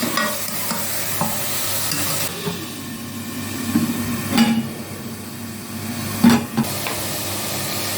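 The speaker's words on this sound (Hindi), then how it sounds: "चिकन डाल के इसको अच्छी तरह से मिक्स कर लेंगे" Chicken is stirred in a pot for Punjabi chicken yakhni pulao, with scraping stirs and a soft sizzle from the pot, plus a few louder clanks and knocks of the utensil, close and without talk.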